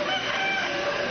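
A rooster crows at a horse farm in Gaziantep where cockfights were held, a dense, steady call lasting the whole moment at moderate loudness with no talking.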